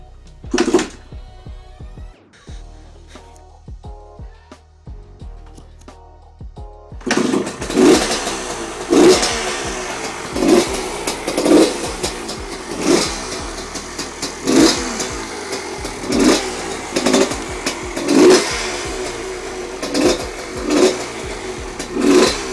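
A Honda MTX 125 motorcycle fitted with an 80 cc CR engine cranks and sputters on its first start, catches, then is revved repeatedly in rhythmic bursts, loud and close.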